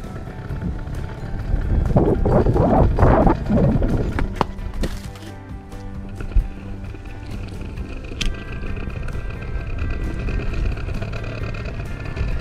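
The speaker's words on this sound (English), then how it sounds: "A crazy wind." Strong wind buffets the microphone during a fast ride down a big hill, a loud, continuous roar that swells heavily early on and then settles into a steadier rush with occasional knocks.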